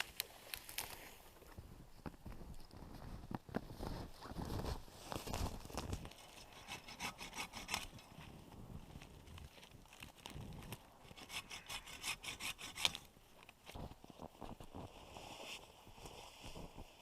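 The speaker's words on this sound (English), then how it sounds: "So this would be a nice one to cut up, use the branches and split it up for firewood" A hand saw cuts through a dead, grey spruce tree for firewood in winter woods, with repeated rasping back-and-forth strokes in an irregular rhythm, close but fairly quiet.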